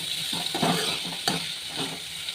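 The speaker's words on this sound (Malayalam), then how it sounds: "ഇതിലോട്ട് ഞാൻ സവാള ഇട്ട് കൊടുത്തു. നമുക്കിതിനെ ഒന്ന് വഴട്ടിയെടുക്കാം." Sliced onions sauté in a hot pan for puttu upma, a close, continuous sizzle broken by a few stirring scrapes and soft utensil knocks.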